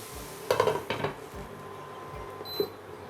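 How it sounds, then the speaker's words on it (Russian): A lid set onto a frying pan of fried potatoes, giving a few close metallic clanks and knocks, then a faint clink and a soft sizzle underneath. "еще минутку жду, закрываю крышкой и выключаю нагрев"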